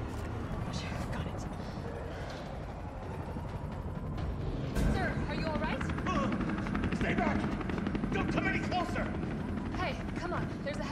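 A helicopter's rotor drone in the Resident Evil 3 video game, a steady dense roar throughout with a brief louder burst near the middle and faint rhythmic chopping over it.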